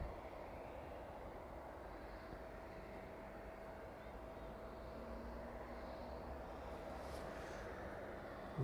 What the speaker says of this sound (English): APU definitely started up there.